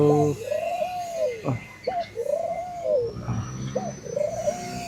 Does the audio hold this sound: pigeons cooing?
yes